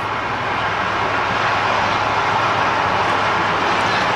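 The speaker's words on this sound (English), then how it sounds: "having the timber train passing a couple of times a day" A timber train rolls past in a continuous broad roar, steady and fairly loud throughout, with no voices.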